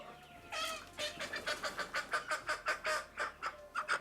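Chickens on a chicken farm cluck in a quick run of about a dozen short, close, fairly loud calls over faint background hum, with no voices.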